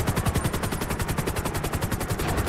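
Sustained automatic assault rifle fire in Grand Theft Auto V, a rapid, even stream of loud, close shots hammering without pause.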